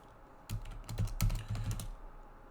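Rapid clattering keystrokes on a computer keyboard, bursts of close clicks starting abruptly and running for over a second before stopping, heard without talk.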